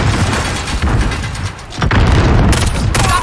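A stun grenade goes off in Modern Warfare multiplayer, loud booming bursts amid a chaotic din of gunfire, with a sharp detonation near the end standing out above the continuous battle noise.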